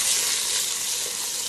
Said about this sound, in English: I think our onions are about ready. So I'm just searing that.